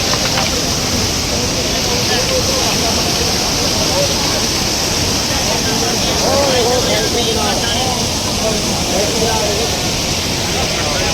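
Floodwater rushes past in a dense, unbroken roar, loud and close, holding steady throughout with faint voices buried beneath it.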